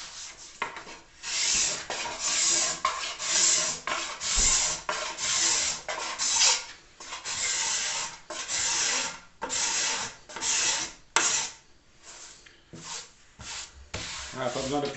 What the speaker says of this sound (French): Mais quand un racloir ça coupe, ça coupe.